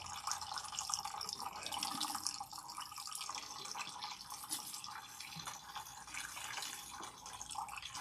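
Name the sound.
water rinsing protein treatment out of hair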